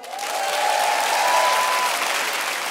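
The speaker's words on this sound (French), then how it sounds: "Applaudissements" A comedy club audience bursts into sustained, dense applause at a stand-up show, loud and steady throughout with no talking over it.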